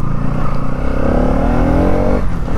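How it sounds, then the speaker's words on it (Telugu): A 2024 Bajaj Pulsar NS 200 motorcycle engine revs up loud and close, its pitch climbing steadily through a single rising rev before dropping off near the end. No one speaks. "అసలు ఎంత స్మూత్గా ఉందో ఇంజిన్ అయితే."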